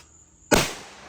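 One sharp gunshot blasts an orange target apart outdoors, a loud sudden crack followed by a short decaying echo, with no talking.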